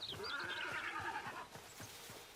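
A horse in the video game Hytale whinnies in a high, wavering neigh over steady clip-clop hoofbeats, close and clear with no talking.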